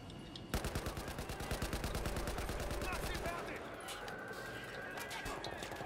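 Battlefield 4 automatic gunfire, a rapid steady stream of close, loud shots for about three seconds that then give way to continued battle noise.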